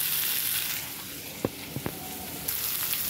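Red amaranth greens hit hot, reddened tempering oil, raising a steady broadband sizzle with a few soft knocks of the spoon partway through. The frying stays close and fairly even throughout.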